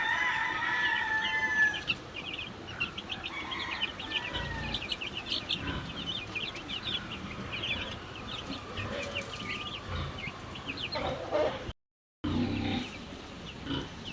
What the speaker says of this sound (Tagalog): At naiinitan na po yung mga sisiw.